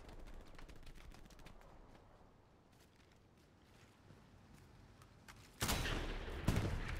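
Machine gun fire in the Hell Let Loose war video game: scattered distant rattling shots, with a louder, closer burst of gunfire near the end.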